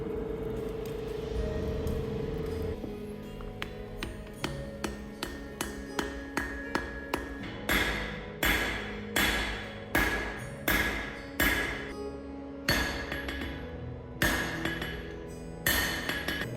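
A steel bar of crucible-carburized steel is forge welded by hammering, a loud close series of ringing metallic blows in a steady rhythm, each strike clanging over the anvil and growing heavier partway through.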